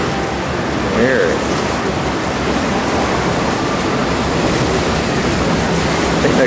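Natural ocean waves rush and splash steadily against the bow of a moving boat, a loud continuous wash with wind noise over the microphone.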